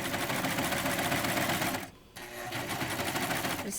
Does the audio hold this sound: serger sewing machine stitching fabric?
yes